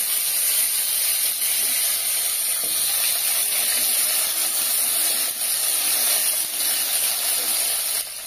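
Potatoes and radish frying in hot oil with a fish head for a Bengali rohu curry, giving a steady, loud, broadband sizzle that holds evenly throughout with no talk.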